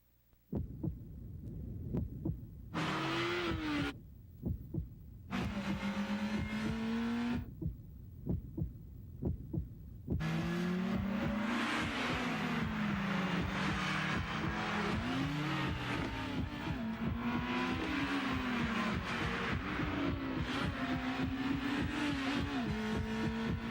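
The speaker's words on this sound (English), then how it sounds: "The all-new 200 horsepower Acura RSX" A 200-horsepower Acura RSX engine in a car commercial, rising through revving bursts and then a long sustained run of climbing and dipping engine pitch, loud and close, with rhythmic thumping beats early on and no talk.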